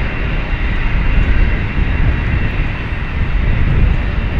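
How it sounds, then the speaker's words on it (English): A steady, loud, close roar of an aircraft engine running at London City Airport, broad and unbroken for several seconds with no voices over it. "You can probably hear the engine started now."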